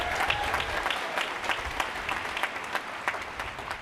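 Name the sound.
applause for the faculty at a graduation ceremony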